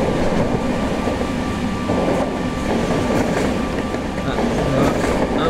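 A simulated A1A-A1A 68500 diesel locomotive hauling a heavy train on a mountain line in Train Simulator 2018: a steady, loud rumble with engine drone and faint rail clatter, continuous throughout.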